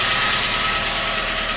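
A Mitsubishi Magna engine idles steadily on its last run, a continuous close mechanical drone with a slight knocking vibration and no voices.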